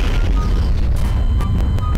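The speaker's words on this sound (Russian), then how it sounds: "Вот это мега взрыв." A bomb explodes in Garry's Mod, producing a loud, deep, rumbling boom that fills the whole two seconds, with a few sharp crackles on top.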